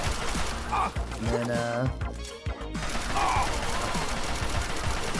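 Rapid rifle fire in the video game Fallout 3 rattles out in dense bursts, broken by a short pause partway through, while someone talks over the shooting.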